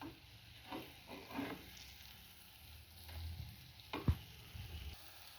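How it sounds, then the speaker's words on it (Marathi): Brinjal slices frying on a hot tawa, a steady soft sizzle with occasional faint scrapes and one sharp clink, quiet and close with no talking. "हे पहा मैत्रिणींनी दोन्ही बाजूने छानपैकी आपण फ्राय करून घेतलेलं आहे।"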